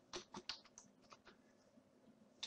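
Light typing on a computer keyboard, a short quick run of soft, close key clicks followed by a pause and one final tap, in a quiet room.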